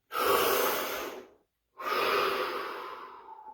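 Two long, deep breaths, one drawn in and one let out, each lasting over a second with a short silent gap between them. Both are close and breathy in a quiet room.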